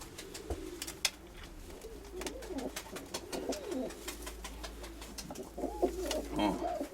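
Soft, repeated cooing of a pigeon close by, low throaty calls over a faint background hum with a few sharp clicks.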